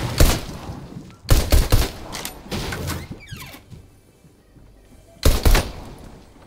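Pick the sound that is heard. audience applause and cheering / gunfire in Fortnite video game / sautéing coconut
gunfire in Fortnite video game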